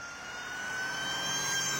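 A supercharged engine in a cheap Toyota Aygo builds in a rising whine and roar, growing slightly louder over the short stretch, with no voices.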